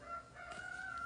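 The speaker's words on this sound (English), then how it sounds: "Per the sounds of the rooster." A rooster crows in one sustained, drawn-out call, faint and distant, with no talk over it.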